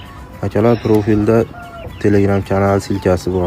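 A shamo fighting-breed rooster clucks and crows in repeated loud, close, harmonic bursts, with a voice briefly speaking over it.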